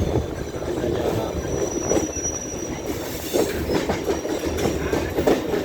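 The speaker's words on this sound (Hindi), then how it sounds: "पाटलिपुत्रा एक्सप्रेस कितनी रफ्तार में चल रही है।" Patliputra Express train rolling along the rails near Sonpur and Hajipur, a steady loud rumble with rhythmic wheel clatter and occasional squeal throughout, no talk.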